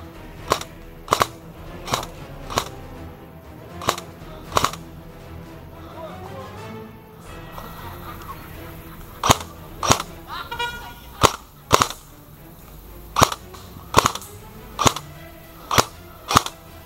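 An airsoft gun fires single shots during an outdoor airsoft game, sharp snapping pops spaced roughly half a second to a second apart, with a lull in the middle and faint voices and ambience underneath.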